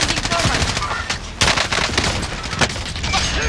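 A video game firefight with rapid, repeated gunfire, including a sniper shot. Sharp cracks come in quick bursts and scattered single shots over a noisy battle background, loud and close.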